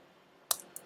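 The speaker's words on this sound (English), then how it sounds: "we're gonna click enter" A computer keyboard's Enter key is pressed once with a sharp close click, followed by a fainter second tap, in a quiet room.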